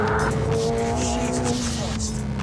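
A McLaren 750S or Ferrari 296 GTB sports car on a fast lap of a twisty track, its engine droning loudly and steadily with a rising then falling tone and faint tire noise, with a voice talking over it.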